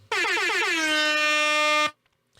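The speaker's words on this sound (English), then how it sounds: "Have air horns." A single loud air horn blast, starting abruptly, sliding slightly in pitch at first, then holding steady for nearly two seconds before cutting off sharply into silence.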